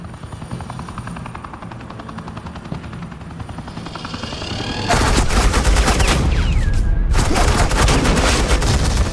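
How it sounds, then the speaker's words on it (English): Suppressing gunfire in Batman: The Enemy Within: a steady helicopter-like drone gives way midway to loud, dense rapid gunfire bursts that continue almost unbroken to the end, close and overwhelming. "suppressing fire."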